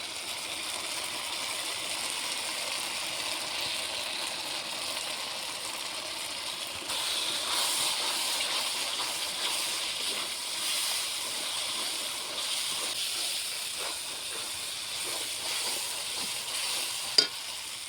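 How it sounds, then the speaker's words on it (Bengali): Ground spice powder sizzles in hot mustard oil for a salty tengra fish curry, a soft, steady frying hiss with faint stirring scrapes and one sharp clink near the end. "এখন দিয়ে দিচ্ছি আমার সেই গুঁড়ো যে মশলা সেটা দিয়ে দিচ্ছি"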